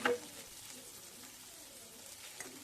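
Fish frying in a pan over a low flame gives a faint, steady sizzle with a brief clatter at the start, heard alone.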